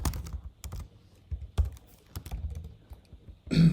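Typing on a computer keyboard while entering code, irregular clusters of close, crisp key clicks with short pauses and a louder flurry at the end.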